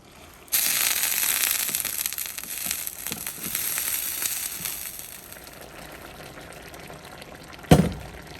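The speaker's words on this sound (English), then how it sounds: "So we're gonna add warm water from the kettle." Warm water from a kettle pours into a cooking pot of curried shrimp, a loud splashing hiss that starts abruptly, gradually softens to a simmering sizzle, and ends with a sharp knock.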